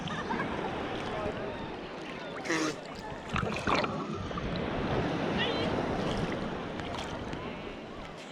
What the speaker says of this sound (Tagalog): Taas ang alon.